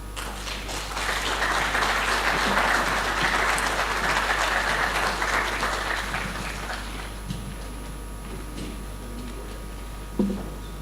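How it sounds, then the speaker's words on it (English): A conference audience at a national economic dialogue in Nigeria applauds steadily for about seven seconds, then the clapping fades to a quiet hall with a faint hum and a single knock. "A round of applause again for the Dr. Olusegun Omisikam"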